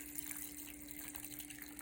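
Water poured into a blender holding soaked soybeans for soy milk, a steady soft splashing stream that stays faint and continuous for a couple of seconds.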